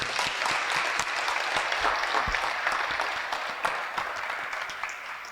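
A crowd applauds steadily, scattered claps forming a continuous patter that tapers slightly toward the end.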